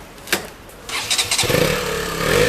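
A KTM Duke 200 four-stroke motorcycle cranked and fired up: a couple of clicks, a whirring starter, then the engine catches and runs with a raspy, buzzy note, close by and without speech.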